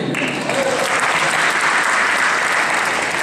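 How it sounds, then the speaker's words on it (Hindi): An audience in a hall at the Ulhas 2021 event claps steadily, a dense, close wash of applause holding at an even level throughout. "नीचे से तालियां बज रही हैं पर ऊपर से समझ नहीं आ रही है।"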